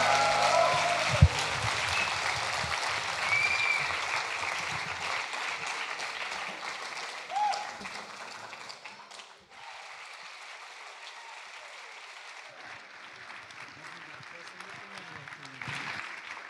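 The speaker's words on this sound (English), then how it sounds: "everyone, please give them a round of applause" Applause from an audience at an opening ceremony after a musical performance, a dense steady clatter of clapping that stays fairly strong throughout, thinning slightly in the second half.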